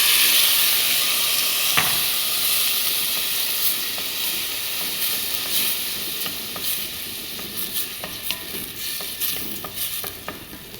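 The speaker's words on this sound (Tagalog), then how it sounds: "ilagay natin ang ating bigas ayan ang ating mix na bigat" A hot pan sizzles and hisses steadily while rice grains are stirred in, with scattered scraping clicks of a spoon throughout.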